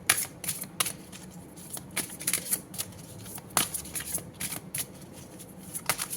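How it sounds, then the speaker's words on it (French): Oracle cards are shuffled and drawn in a quick run of close, crisp riffling snaps and soft slides, steady and bright, with no talk. "Je prends une troisième carte"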